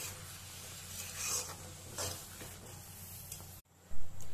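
Tomato pickle simmers in a pan with a soft bubbling sizzle and intermittent scraping stirs, moderately close, before a brief cut and a louder clatter at the end; there is no speech.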